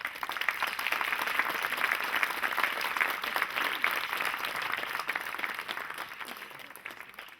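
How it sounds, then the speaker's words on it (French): Sustained audience applause fills a conference hall as a curtain opens for a speaker at a talk on disability and leadership, dense steady clapping from many hands, loud and close, fading slightly toward the end. "Le temps que le rideau s'ouvre, je vous demande d'applaudir Denis Coquet."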